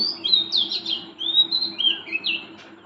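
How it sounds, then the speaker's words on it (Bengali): An oriental magpie-robin (doel) sings in the early morning, repeating clear, bright whistled phrases at moderate distance over a steady low background hum. "তো সকালবেলা এই পাখি ডাকে ঘুম ভাঙলে কিন্তু ভালো লাগে"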